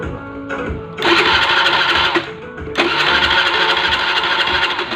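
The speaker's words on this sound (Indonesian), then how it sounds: "Tes starter aja lur, biar cepat." A 1991-era-style Honda Beat FI scooter is tested with its electric starter during an electrical repair, giving two loud bursts of cranking and engine noise separated by a brief dip, close up with no talk.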